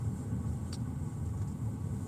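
Steady low road rumble from inside a car stuck in heavy traffic, with engine hum and a brief faint higher tone near the middle; no one speaks.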